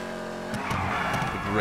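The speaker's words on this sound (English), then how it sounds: "This car sounds so sweet." Car engine in GTA 5 free-roam gameplay, driving with rising revs and a brief tire squeal near the end, partly under a man's speech.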